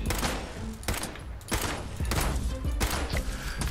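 Gunfire from a first-person shooter weapon in Fallout 76, cracking out as a string of about six loud, separate shots spread unevenly over a few seconds, with no voices over them.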